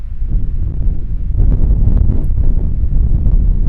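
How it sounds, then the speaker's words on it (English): Wind buffets an outdoor microphone with steady low rumbling gusts that grow stronger about halfway through and stay loud to the end, with no one speaking. "The wind is still weaving with us at the moment."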